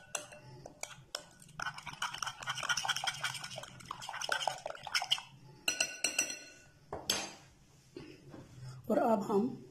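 A spoon clinks against a bowl while Kashmiri red chilli and paprika powder are stirred into a masala paste, with repeated close clatters under ongoing talk.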